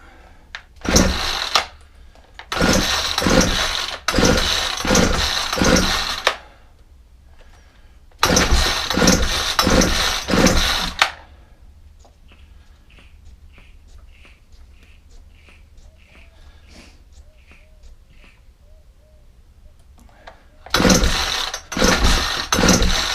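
A Ryobi 4-stroke string trimmer, run without an air filter, bursts into loud revving runs in three separate bouts, each lasting a few seconds and separated by quiet gaps with faint rattles and clicks.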